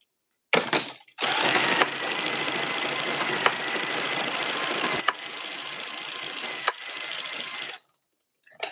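A hand-cranked knitting machine runs rows of waste yarn, a steady close mechanical whirring and clacking carriage sweep lasting several seconds, with brief clicks at the row ends.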